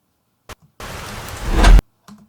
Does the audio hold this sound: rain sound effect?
yes